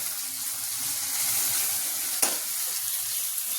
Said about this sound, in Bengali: এখনো তো দেখছি অনেকটা ভাজা হয়ে গেছে।